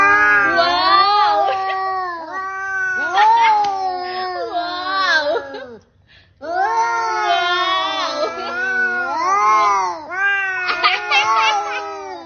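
A frightened cat yowls and wails in long, drawn-out rising and falling cries, loud and close, with a short pause midway before the yowling resumes.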